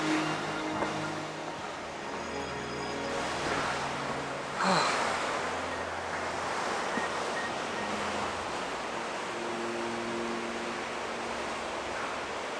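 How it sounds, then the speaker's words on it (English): Broadband rushing water roars steadily from a waterfall on a drizzly Sissu trek in Lahaul, Himachal, mixed with wind buffeting the microphone and faint scattered tones. "you can see the waterfall behind me"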